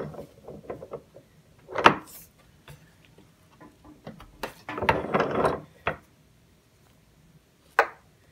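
Tandy metal stamp struck into a strip of oil tanned leather to press the letter A, giving a few sharp knocks and taps close by, with clustered impacts midway and a final single tap.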